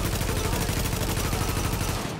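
Rapid, sustained gunfire from the video game The Division, shots cracking out in a dense, unbroken burst that runs loud and close for the whole stretch before cutting off at the very end.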